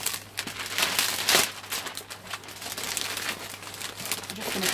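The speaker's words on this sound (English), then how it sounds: "I'm just going to cut some curling ribbon off." Cream curling ribbon for a Christmas gift hamper crinkles and rustles as it is handled and cut, close crackling bursts with a sharp peak and some soft speech.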